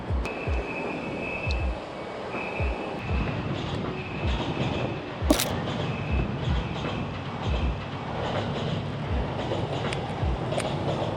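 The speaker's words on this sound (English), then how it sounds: "Let's see if we can hit a train." A train passes in Tokyo with steady rolling rumble and rhythmic clickety-clack of wheels over rail joints, a faint squeal riding above, moderately close and without talk.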